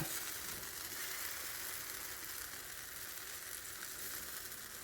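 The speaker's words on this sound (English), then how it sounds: "let those cook and see if they start to bubble up" Flourless, sugar-free pumpkin pancake batter sizzles steadily in a hot pan, a constant soft crackling hiss held at an even level close up, with no voices.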